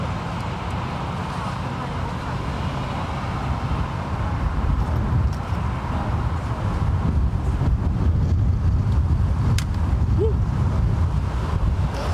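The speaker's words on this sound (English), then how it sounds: "Little gust of wind." Gusty wind at the Frankfurt Airport spotters platform, buffeting the microphone in a loud, low, continuous rumble that strengthens midway, with a faint distant rushing beneath.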